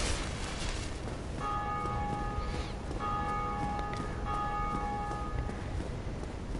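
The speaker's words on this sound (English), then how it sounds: "It's the first bell rung." A big bell tolls in Dark Souls: a sustained, ringing metallic tone that strikes about three times over a steady rumbling ambient bed, with no talking.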